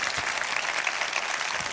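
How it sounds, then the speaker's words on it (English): Seminar audience applause for a speaker, a dense and steady burst of many hands clapping together for the whole short stretch. "Can we give Dr. Stripling a huge round of applause"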